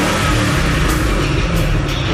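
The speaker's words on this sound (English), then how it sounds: "That big, mean-sounding V8 roar." A Ford Mustang's 650-horsepower V8 roars and revs with a deep, rumbling exhaust, loud and close, with no voices.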